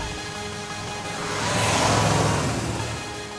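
A lightweight drag car engine revs hard at takeoff, a loud raw roar that builds and peaks midway before easing slightly.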